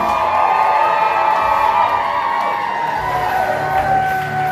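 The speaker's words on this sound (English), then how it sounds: "Make some noise!" Comedy club crowd at a stand-up night cheers, whoops and shouts loudly and continuously, a dense wall of mixed voices with no single speaker standing out.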